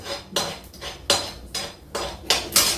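Chickpea-leaf saag thickened with flour being stirred in a cooking pot, a rhythmic series of about six scraping, clinking strokes of a utensil against the pot, close and fairly loud.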